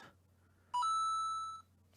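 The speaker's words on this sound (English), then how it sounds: "as my phone's dinging at me" A phone notification chime rings once, a clear bright ding with a ringing tail lasting under a second, loud and alone over a quiet background hum.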